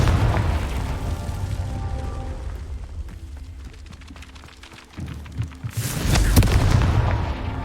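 The Confringo fire spell in Hogwarts Legacy lands with a deep booming blast, followed by a second heavy explosive burst near the end, with rumbling in between.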